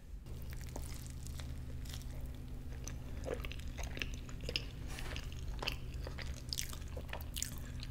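Biting and chewing into a Farmer Boy's breakfast burrito, close and quiet, with soft crunches and squishy mouth sounds repeating throughout, no talking.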